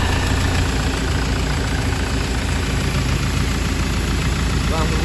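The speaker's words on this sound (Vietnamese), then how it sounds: "Và đây là máy của chiếc Ford Transit 2015. Và máy nổ khá là êm." A 2015 Ford Transit van engine idling close by, a steady, even rumble held at constant level, with someone talking over it.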